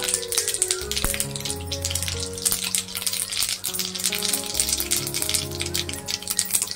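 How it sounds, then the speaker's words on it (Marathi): Mustard seeds sizzle in hot oil for a tempering, with a continuous bright frying hiss and scattered small pops and crackles close by, with no voices. "तर तेल तापल्यावर आपल्याला मोहरी घालायची"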